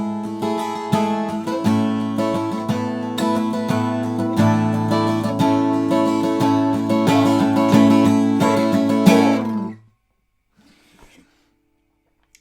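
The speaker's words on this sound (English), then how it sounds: "And the strumming should sound like this." Steel-string acoustic guitar strummed in a steady rhythm for a guitar lesson, dense repeated chords ringing loud and close for about nine seconds before stopping into near silence.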